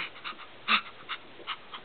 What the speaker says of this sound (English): Who is that puppy here in front of me?